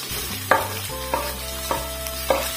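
Boneless chicken pieces fry in an onion tempering in a pan: a steady close sizzle with four evenly spaced metallic stirring clinks and a low hum underneath, no speech.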